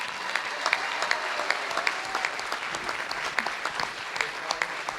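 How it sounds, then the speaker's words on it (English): A board of education meeting room breaks into steady applause for a school's Patriot wrestling team, many hands clapping together at moderate distance for several seconds. "round of applause for our Patriot wrestlers"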